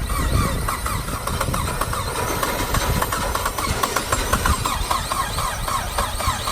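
A 2006 Saab 9-5 turbo flood car, just fired up, idles steadily with an even, continuous engine rumble close by and no talking.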